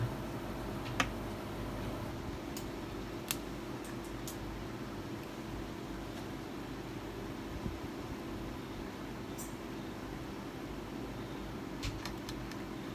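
A car amplifier's cooling fan runs on the repair bench as a steady, quiet whir with low hum throughout, joined by a few faint ticks and clicks.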